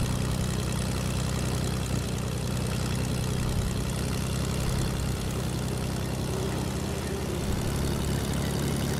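A plane engine drones in the Fortnite video game, a loud, steady propeller hum with a low rumble that continues unbroken throughout, with no talk over it.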